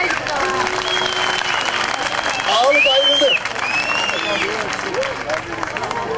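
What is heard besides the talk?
audience applause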